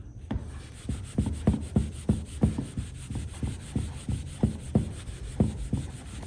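A vintage Cummins Model 336 metal drill is hand polished with a cloth in quick back-and-forth rubbing strokes, a regular scrubbing rhythm of soft swishes with dull knocks at each turn, heard close up.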